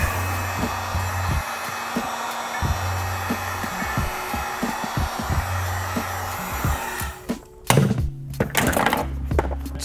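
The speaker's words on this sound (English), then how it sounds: "from here is where I like to use the heat gun" A heat gun blows on a car seat cover during upholstery work, giving a steady hair-dryer-like whoosh broken by handling knocks and thumps. It cuts out briefly near the end before resuming.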